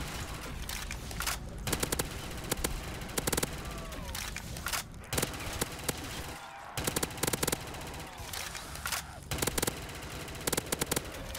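Rapid automatic gunfire from the Bonnie and Clyde weapon in a zombies video game comes in repeated short bursts separated by brief pauses, crisp and close, with faint talk in the background.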